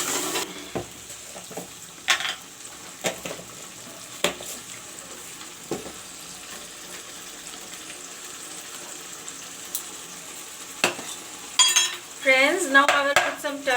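Masala paste for a cauliflower, potato and peas chicken curry frying in a pan, with a soft steady sizzle broken by occasional stirring scrapes and clinks of a spoon, plus a few louder clatters near the end.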